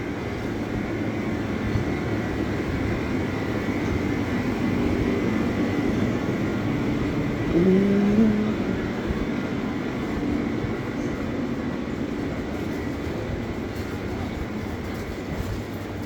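A steady, low air conditioner hum drones on without change throughout, a constant background whir with no voices, at night on the Via Dolorosa in Jerusalem.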